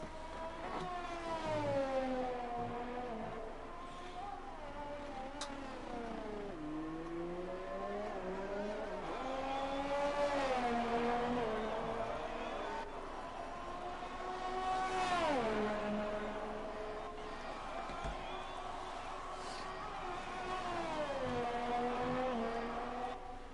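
A Red Bull Formula 1 car's engine in an F1 video game howls through a hot lap at the Australian Grand Prix, its pitch sweeping up through gears and dipping for corners in repeated rising waves, steady and fairly loud with no talk.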